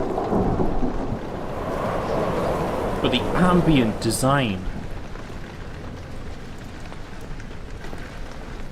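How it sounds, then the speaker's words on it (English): Steady rain falls outside in the horror video game Amnesia: The Dark Descent, a continuous broadband wash with low rumbling like distant thunder, while someone talks over it. "You can hear the rain outside"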